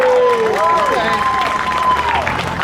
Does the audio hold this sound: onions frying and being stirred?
no